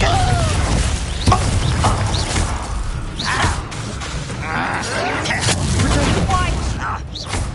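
A fiery Confringo blasting spell bursts during a Hogwarts Legacy duel, booming amid a dense, crackling flurry of impacts and mechanical clatter. The explosions sound loud and continuous, with brief voices mixed in.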